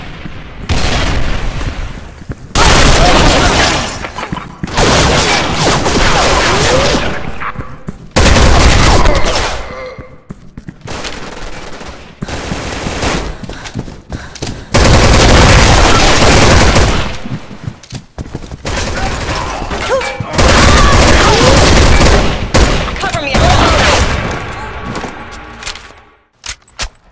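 Grenade blasts and bursts of gunfire in the shooter game Special Force 2, loud repeated volleys and booms with short gaps of quiet.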